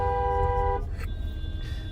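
A car horn blares loud and close in one sustained steady blast that cuts off partway, leaving road noise and a faint second tone.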